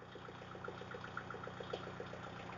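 A Kubota MU4501 tractor engine idles steadily at close range, a continuous even rumble with a faint rhythmic pulsing and no voices over it.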